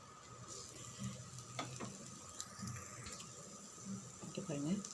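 A dosa made with poha and semolina cooks on a pan with a soft sizzle. Background clatter and a brief rush of running water sound over it, and a voice murmurs at times.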